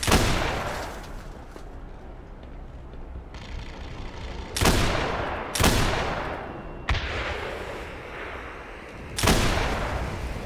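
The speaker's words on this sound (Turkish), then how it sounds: "Ulan top attı var ya." Four heavy cannon blasts in the video game Black Mesa: Blue Shift go off at uneven intervals, each a sharp boom that decays into rumble, over a low background din.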